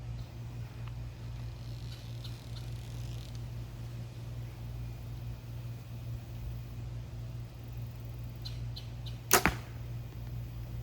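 A single arrow shot from a bow hits a target with a sharp, loud impact near the end, set against a steady low hum and quiet outdoor background, with no talking.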